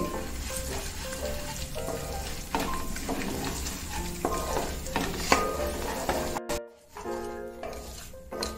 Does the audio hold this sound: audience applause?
no